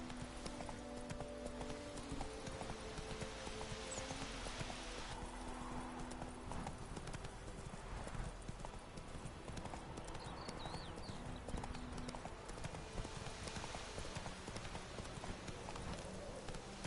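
Horse hooves clip-clop at a steady trotting rhythm in The Witcher III video game, close and continuous for the whole stretch, with faint game ambience underneath and no talking.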